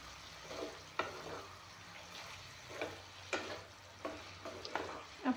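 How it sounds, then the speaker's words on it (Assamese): Spices including cumin sizzle softly in a pan for a makhana curry, with a steady low frying hiss broken by repeated scraping clicks of a spoon stirring at an uneven rhythm, close and fairly quiet. "এতিয়া এইখিনি অলপমান ভাজি ল'ম।"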